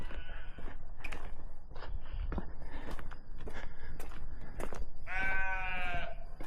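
Sheep bleat in the mountains, several wavering calls from the flock, one clear and close near the end, over footsteps and soft rustling, with no talking.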